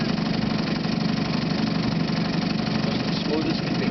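A 1953 Johnson TN-28 5hp outboard motor idles on a calm lake, giving a continuous, even, low putter that stays steady throughout.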